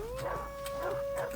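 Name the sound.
dogs howling and barking in the video game Far Cry 3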